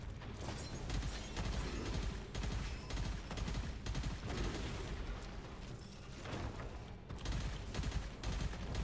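Dense, continuous gunfire and explosions from the shooter game Gunfire Reborn, rapid bursts layered into a loud, unbroken fusillade with no talk.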